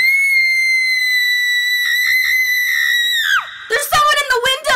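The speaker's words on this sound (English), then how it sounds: "she gave the most horrific, blood-curdling shriek I ever heard." A woman lets out a long, piercing, high-pitched scream that holds for over three seconds and then cuts off sharply, followed by a burst of shouting.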